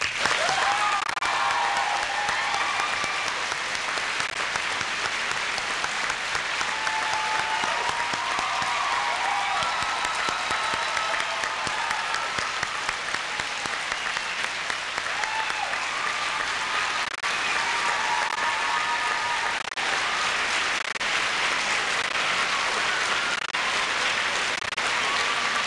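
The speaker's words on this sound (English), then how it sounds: "Please join me in a round of applause." A large audience at a high school graduation ceremony applauds in a long, sustained, even wash of clapping, with faint voices and cheers scattered through it.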